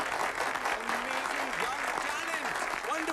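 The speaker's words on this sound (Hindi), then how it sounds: "जोरदार तालियां, तालियां" An audience claps steadily and loudly in a stage-show scene from a film, the dense applause continuing throughout with voices faintly mixed in.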